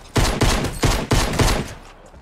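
Five or six evenly spaced bursts of video game gunfire, each a loud, punchy rattle, fired in quick succession before trailing off.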